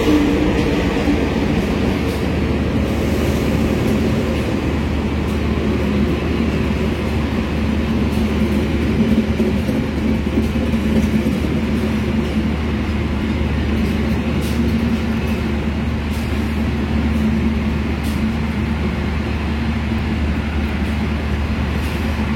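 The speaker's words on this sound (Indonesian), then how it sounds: "Oke, kita tunggu kereta api Malabarnya melintas" Malabar morning train from Malang to Bandung passing through Tulung Agung station on track 1, a loud continuous rumble and rolling clatter of wagons that holds steady throughout, with no voices.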